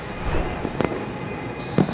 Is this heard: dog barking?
no